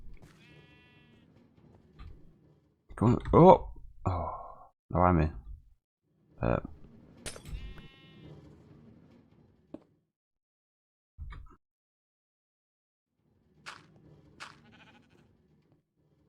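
Sheep in the Minecraft game bleat in a few short, clear calls, loud and close, spread over the clip and mixed with quiet game sounds. Someone talks now and then between them.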